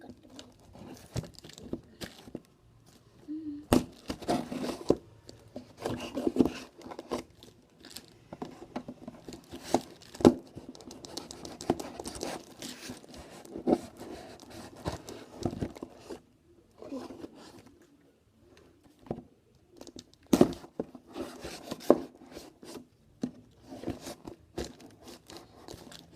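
Tempered glass screen protector packaging for an HTC Desire 820 cut open with scattered crinkling, rustling and sharp snipping bursts close up, irregular and intermittent with quiet gaps between.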